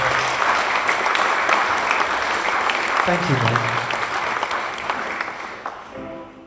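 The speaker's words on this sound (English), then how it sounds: "So I just want to please give a huge round of applause" Audience applause at an album launch swells as a crowd of clapping hands, fairly close, while someone briefly speaks over it and the clapping tapers off toward the end.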